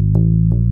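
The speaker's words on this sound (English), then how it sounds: "I'd played this chromatic phrase which fell really nicely under the hand." Electric bass guitar playing a brief chromatic funk phrase, a few sustained low notes with soft plucked attacks, close and clear with no voices.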